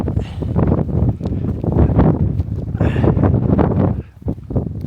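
Strong mountain wind buffets the microphone on an exposed fell-top camp, a continuous loud roaring rush with gusty swells that dips briefly near the end, and no voices over it.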